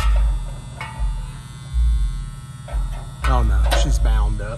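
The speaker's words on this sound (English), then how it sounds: "that motor is bound up real tight" Seized, bound-up electric motor from an air conditioner with no cooling, giving a steady low buzzing hum in pulses, with a voice speaking over the later part.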